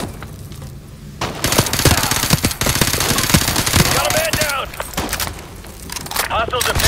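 Gunfire in Modern Warfare 2, with rapid automatic bursts and scattered shots mixed with shouted radio-style voices and whizzing effects, loud and close.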